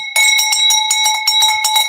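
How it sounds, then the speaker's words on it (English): A small Swiss bell rings loud and close, struck in quick repeated strokes that leave bright sustained tones hanging between hits. "But I'm going to give you a little Swiss bell."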